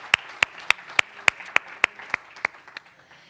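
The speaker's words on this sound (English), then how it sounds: "So again, applause for this signature." A few people clap for a signing ceremony at a Huawei Digital Talent Summit, about a dozen sharp, evenly spaced claps that fade out after roughly three seconds.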